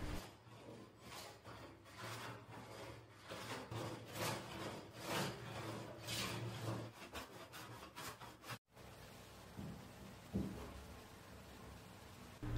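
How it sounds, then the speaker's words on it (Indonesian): A manual hand plane smoothing the surface of a wooden shelf, with repeated rasping strokes at a steady rhythm, close and alone, then a brief break and quieter scraping. "untuk meratakan permukaan ambalan, saya gunakan ketam manual seperti ini"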